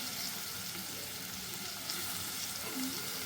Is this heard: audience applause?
no